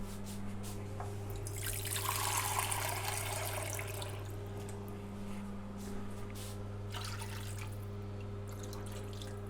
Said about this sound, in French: Alors après 5 minutes de cuisson, on va rajouter de l'eau.